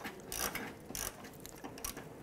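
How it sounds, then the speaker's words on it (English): Quiet clicking of a ratchet turning a 10mm socket on a bolt beneath the radiator of a 2009-2015 Honda Pilot, a few short bursts of pawl clicks with pauses between them. "I'm going to loosen and remove that bolt."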